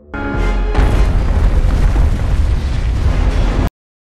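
A massive, deep explosion as a spacecraft crashes onto the moon's surface, after a brief rising tone, sustained roar and rumble continuing for about three seconds before cutting off abruptly.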